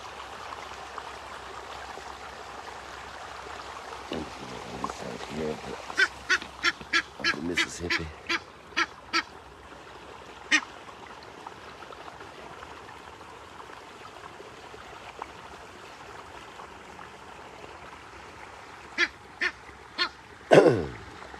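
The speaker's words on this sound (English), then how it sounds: "Egyptian geese, you see" Several short, sharp honking calls from Egyptian geese ring out in bursts over a steady background of flowing water, with a loud close cluster near the end.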